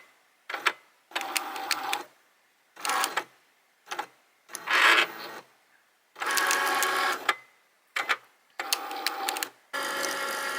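A Cricut cutting machine runs a print-then-cut job on paper, giving repeated bursts of loud mechanical whirring and carriage movement separated by brief pauses, close up with no talking.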